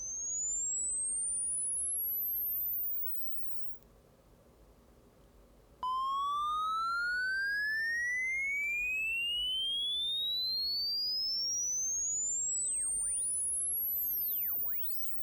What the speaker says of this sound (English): Okay, so that's that spaceship taking off thing.